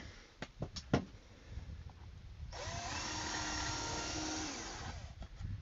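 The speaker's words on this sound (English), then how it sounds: "when I drill." A power drill drives screws into wood while a beehive is assembled, a few short knocks and taps first, then one steady, sustained whirring run of about three seconds, close and fairly loud, with no talk over it.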